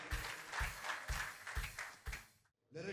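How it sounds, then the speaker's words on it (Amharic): A church congregation claps together in steady rhythmic bursts, loud and close, for about two seconds before the sound drops to near silence and a voice briefly begins. "አጨብጭቡ ለጌታ"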